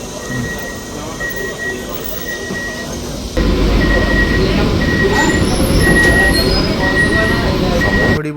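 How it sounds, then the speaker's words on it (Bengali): A Ranaghat to Sealdah AC local train pulling out of Ranaghat station, heard from on board as a continuous rumble of wheels and carriage noise that grows louder partway through, with a faint high whine above it. "নির্ধারিত সময় থেকে 2 মিনিট দেরি করে ট্রেন আমাদের ছেড়ে দিল রানাঘাট স্টেশন।"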